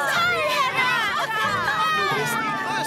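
A cartoon crowd cheers and shouts together for Hannah, the new Pontypandy kayak race champion, a dense, steady burst of many overlapping voices that stays loud throughout.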